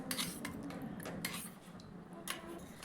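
A spoon clinks and scrapes against a bowl while cornflour and water are mixed for cabbage manchurian, giving repeated light metallic taps over a soft continuous stirring noise.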